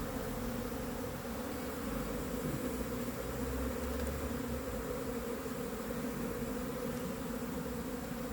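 A honeybee swarm being hived into a new box hums in a steady, dense buzz close to the microphone, continuous and unbroken throughout with no voices.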